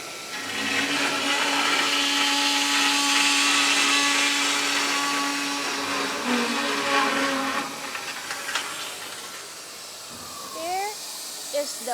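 Fence post roll forming machine with a laser welding stand running in a factory, a steady loud whirring, hissing drone with a sustained whine that fades, then a few short rising squeaks near the end.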